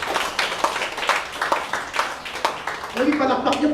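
An audience applauds for mothers in a church setting, scattered irregular claps from a small crowd heard close, with a voice talking over them near the end.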